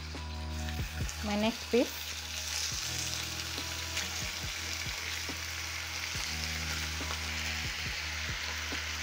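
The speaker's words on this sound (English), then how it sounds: "So I'm going to add in my bacon." Bacon sizzling in a frying pan for a breakfast sandwich, a steady close crackle with small popping ticks throughout; a person speaks briefly near the start.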